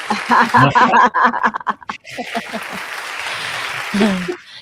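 Crowd cheering and clapping: loud whoops and voices at first, then steady sustained applause that swells and fades near the end, with some laughter mixed in.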